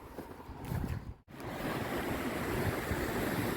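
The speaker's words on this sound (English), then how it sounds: "That's the French Broad River." The French Broad River rushes continuously in a broad, steady wash, heard from a trail nearby, with a brief dropout partway through before the flow resumes.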